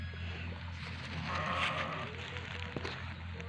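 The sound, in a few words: sheep bleating on a farm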